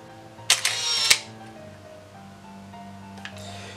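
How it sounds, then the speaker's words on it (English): Programmed analog film camera releasing its shutter, a quick mechanical clack with whirring winding after, close and fairly quiet, followed later by a faint click over low room hum. "You heard that a picture was taken."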